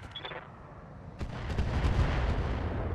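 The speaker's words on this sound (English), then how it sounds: "Not a great hit chance, but we're gonna fire." Mech weapons in the game Roguetech fire as a sharp crack after a quiet stretch, then a rolling, booming rumble of heavy fire that holds to the end.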